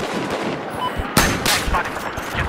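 Gunfire in the shooter game Battlefield 4, with a low background rumble broken by a loud sharp report and a second burst of shots shortly after, close and punchy, with no clear talk over it.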